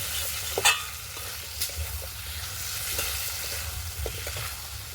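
Mixed vegetables sauté in a pan, a soft low sizzle under scattered scraping stirs of a spoon and a few sharper clinks, fairly quiet and close, with no one talking.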